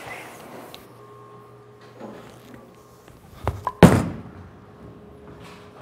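A urethane bowling ball is thrown in a bowling alley: a quiet stretch of low rumble and faint clatter, then a sharp heavy thud followed by a louder crashing impact and a short decaying rumble.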